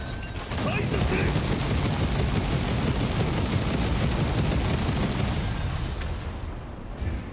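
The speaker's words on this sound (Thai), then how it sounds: "ก็จะเป็นการชาร์จปืนใหญ่ แล้วก็ยิงไป" An ultimate cannon skill in the mobile game One Punch Man: World charges and fires, a dense, continuous roar of booming blasts and crackling debris that stays loud for several seconds, then tapers off at the end.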